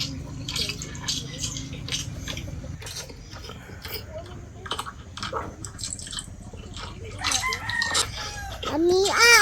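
Chickens cluck and a rooster crows nearby amid farmyard clutter, with occasional dripping water and scattered voices in the background.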